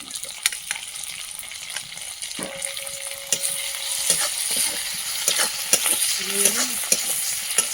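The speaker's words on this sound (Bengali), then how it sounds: "ভাজাতে শাক ভাজাতে একটু চিংড়ি মাছ দেবো বলে চিংড়ি মাছটাও দিয়ে দিচ্ছি" Greens (rangashak) fry in a pan with shrimp added, giving a steady sizzle broken by scraping stirs and clatters of the utensil against the pan, fairly close and without talk.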